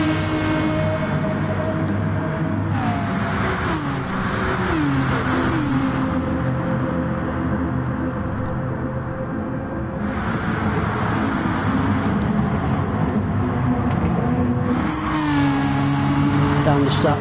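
Race cars lap a track in a PS4 racing video game, their engines holding a loud, continuous whine. The pitch climbs and drops with gear changes and braking as several cars run close together.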